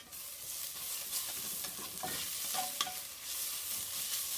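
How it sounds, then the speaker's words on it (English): Onions and garlic sizzle in a frying pan for spaghetti bolognese, a steady hiss broken by a few scrapes and clicks as a utensil stirs them, close and alone. "Throw the garlic in there now because we don't want to cook it as much as we cook the onions"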